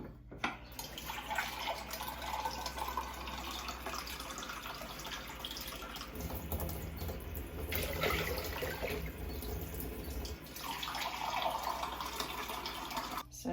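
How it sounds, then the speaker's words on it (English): Four pints of cold water run steadily into a container for elderflower champagne, a broad splashing rush that swells and eases in a few surges, with no talking. "the next thing we add are 4 pints of cold water"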